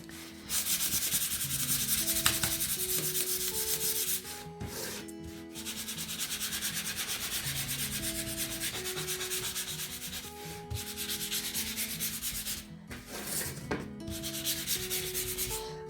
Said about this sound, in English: sanding against the grain